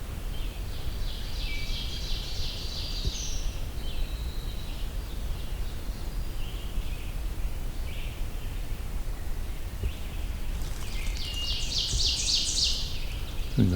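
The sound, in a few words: distant wood thrush singing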